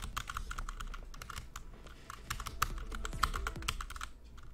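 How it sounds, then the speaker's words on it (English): Quick, clicky presses on a keyboard-style hitbox controller during a Tekken 7 match, irregular bursts of sharp taps up close, with nobody speaking. "I'm using keyboard."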